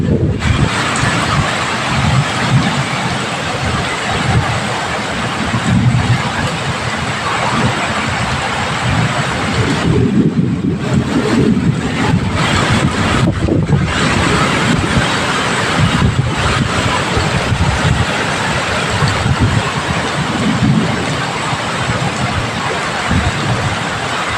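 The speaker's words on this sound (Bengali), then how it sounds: "গাছপালা সব ভেঙে পড়ে গেল, এত জোরে জোরে ঝড় হচ্ছে।" Strong storm wind roars through trees during a heavy rain squall, a steady loud broadband rush with gusting swells and rattling throughout, no talk heard.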